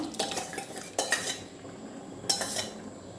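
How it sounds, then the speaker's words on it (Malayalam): Sago stirred into vermicelli payasam in a pot, heard as several metallic spoon clinks and scrapes against the pot in short clusters, close and moderately loud, with no voices. "ഇനി നമുക്കിതിലേക്ക് ചവ്വരി ചേർത്ത് കൊടുക്കാം."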